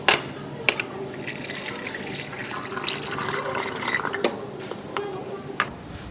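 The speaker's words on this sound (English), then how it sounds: "this solution is transferred to a 500 ml volumetric flask" Sodium chloride solution is poured into a 500 ml volumetric flask, giving a steady liquid filling sound with a few sharp glassy clinks, fairly close and moderately loud.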